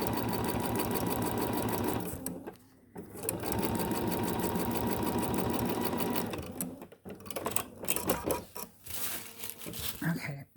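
A domestic sewing machine with a walking foot stitches a fabric bag, its fast, steady needle chatter running continuously for about six seconds, pausing briefly, then resuming in shorter uneven bursts mixed with handling rustle.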